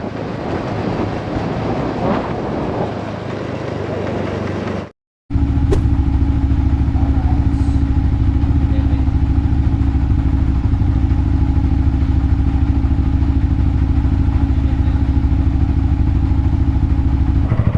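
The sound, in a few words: motor scooter engine while riding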